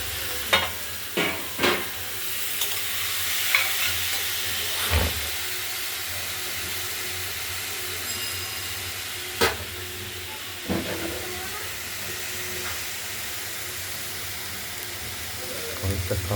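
Small mourala fish frying in a generous amount of oil in a pan, a steady soft sizzle and hiss with occasional scraping clinks of a spatula stirring, close up with no talking.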